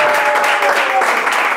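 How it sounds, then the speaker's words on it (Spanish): Applause from a live audience at a Spanish stand-up comedy podcast taping, dense and steady clapping close by, with a voice briefly shouting over it. "¡Aplausos!"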